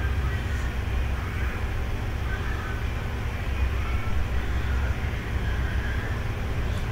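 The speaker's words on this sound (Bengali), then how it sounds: "ট্রেনটা চলতে শুরু করেছে।" A crowded main-line local train starts rolling, giving a steady, low rumble with faint rattling carriage noise throughout and no clear voices.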